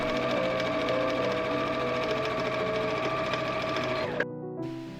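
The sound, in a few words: sewing machine sewing elastic channels on a summer dress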